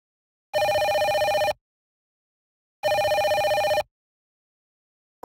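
Telephone ringing in the PS1 video game Dark Hunter: two loud, clean electronic ring bursts about a second each, separated by a pause, with nothing else heard.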